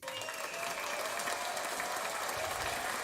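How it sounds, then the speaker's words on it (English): A round of applause from the audience of a football recap show, a brief, steady burst of continuous clapping with a slightly thin, processed texture, no voices over it. "round of applause for you, because you, the audience, keep the show going."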